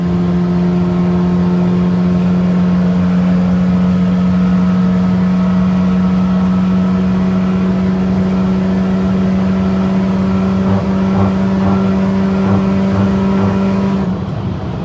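A turbocharged Honda Accord G8 under way, its engine a loud, close, steady humming drone that holds for most of the run before shifting at the very end.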